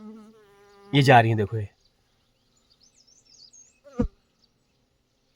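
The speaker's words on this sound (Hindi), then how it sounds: "ये देखो छोटी छोटी मधुमक्खी है भी।" Small bees fly around a hive at the Gananath temple in Uttarakhand, giving a brief close, humming buzz at the start, then a voice speaks and a sharp click follows in near silence.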